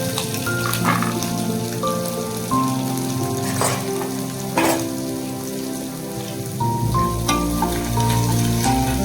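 Onion, garlic, curry leaf, green chili and ginger frying in a pan give a steady, loud, rain-like sizzle that runs continuously over a background of steady tonal music.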